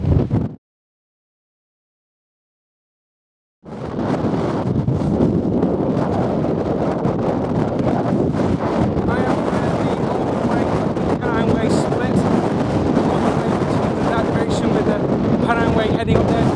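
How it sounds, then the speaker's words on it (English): Strong wind buffets the microphone in a loud, continuous roar after a brief silence, with occasional faint voices underneath, on an exposed Pennine Way moorland trail near Standedge. "keep on walking in this horrible wind"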